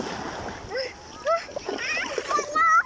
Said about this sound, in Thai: พาข้าวหอมเลยมา เล่นน้ำทะเลก่อน เพราะว่าว้อนมาก